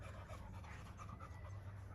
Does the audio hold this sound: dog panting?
yes